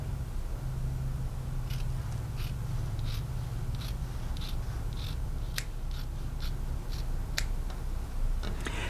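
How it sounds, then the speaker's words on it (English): Scissors snip and trim fabric while sewing, a series of sharp, close clicks at an uneven pace over a constant low background hum. "I'm just going to snip up to my dots and trim that, and I'm going to trim out in between"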